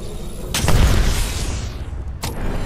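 A grenade blast in a first-person shooter game, a heavy boom with a lingering rumble, bracketed by two sharp bursts of gunfire.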